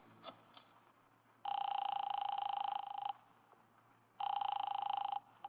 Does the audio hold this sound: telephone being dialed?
yes